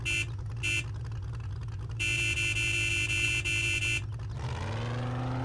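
A vehicle horn in the zombie survival game 7 Days to Die blares in a few separate bursts, short at first and then one long sustained honk, followed by an engine rising in pitch as the vehicle pulls away.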